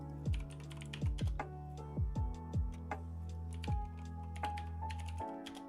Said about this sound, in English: I'm going to see what it sounds like on typing with my loud keyboard